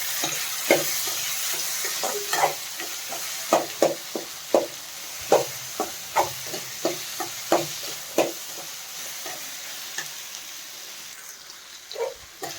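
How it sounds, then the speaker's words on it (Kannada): Mint and coriander leaves fry in a pan for an avarekalu curry, giving a steady close sizzle punctuated by repeated rhythmic scraping stirs, about one every half second to second, with no talk. "ಈಗ ಇದನ್ನೆಲ್ಲ ಚೆನ್ನಾಗಿ ಫ್ರೈ ಮಾಡ್ಕೋತಾ ಇದ್ದೀನಿ ನಾನು"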